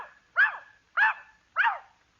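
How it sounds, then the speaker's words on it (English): In a comedy sketch, a dog gives three evenly spaced, clear, close barks, each a short rising-then-falling yelp, with no talking over them. "I'm going to show you how to handle dogs. Come here, Rover."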